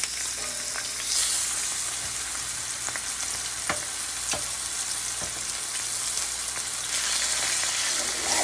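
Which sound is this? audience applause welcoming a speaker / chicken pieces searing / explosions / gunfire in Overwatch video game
chicken pieces searing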